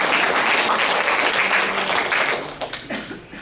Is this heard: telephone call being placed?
no